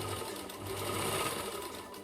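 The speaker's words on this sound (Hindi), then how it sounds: "अटैच करके सिलाई लगा लेंगे।" A sewing machine stitches blouse fabric to its lining with a steady, even motor hum and rapid needle chatter throughout, fairly quiet and uninterrupted.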